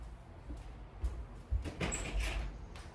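A door is opened with a short creak and sliding scrape amid soft thumps and rustling, close and moderately quiet.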